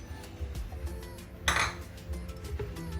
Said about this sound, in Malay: Kita kacaukan dia rata dulu.